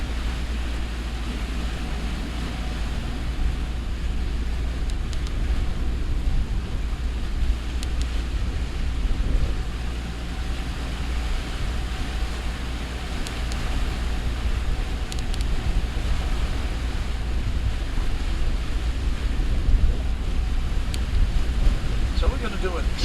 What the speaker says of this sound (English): A little bit of extra breeze coming out of the estuary now, so we're picking up a nice breeze to sail by.